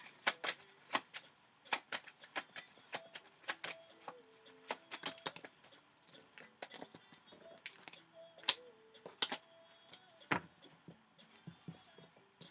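Tarot cards shuffled and dropped onto a table during a love reading, giving a steady run of sharp, close card snaps and flicks with a few louder slaps, heard alone.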